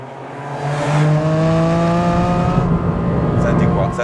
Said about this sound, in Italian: Senti qua, 7500 giri e poi c'è il fattore rumore sia del motore